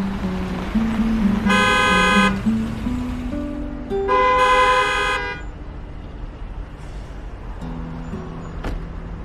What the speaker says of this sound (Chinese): 后面按了这么长时间喇叭，你听不到啊？